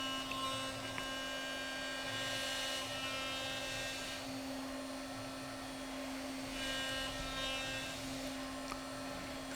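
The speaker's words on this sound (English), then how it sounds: "You hear the CNC in the background going along." A CNC machine runs in a machine shop as a steady background hum with a constant tonal drone and faint whirring swells, alone without talk.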